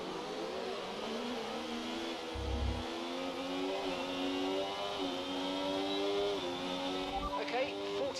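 Formula 1 car engine in the F1 24 racing game, a steady high-pitched whine holding pitch with slight dips as the car brakes into a corner, racing alongside other cars, with someone talking over it throughout.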